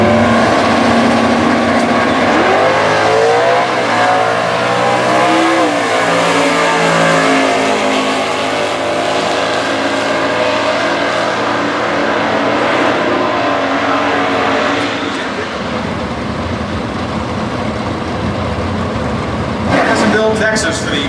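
Two Buick Apollo cars drag race in Stock Eliminator qualifying at the US Nationals, with loud engines revving and roaring as they launch and accelerate down the strip, sound sweeping upward then fading, while a commentator talks over it.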